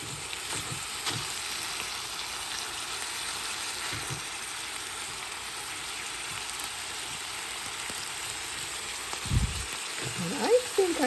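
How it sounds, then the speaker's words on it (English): Red bell pepper and onion sautéing in a pan give a soft, steady sizzle throughout, with a few faint knocks and stirring sounds near the end. "we're going to just let these veggies cook a little bit"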